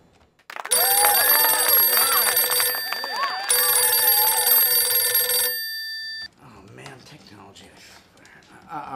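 A telephone rings loudly and close in two long electronic bursts with a short gap between, as phone lines open on a call-in TV show; a voice follows.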